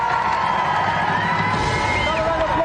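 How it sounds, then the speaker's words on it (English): Studio audience on a 1995 television games show cheering, whooping and applauding loudly and steadily, a dense crowd roar with shouts rising through it. "Another round of applause, Jason Pickford."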